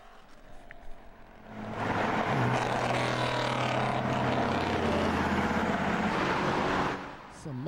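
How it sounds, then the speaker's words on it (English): A muscle car drives past on a Detroit street, its engine rising to a loud, rumbling roar that holds for several seconds before cutting off, with quieter street ambience before it. "Some muscle car action."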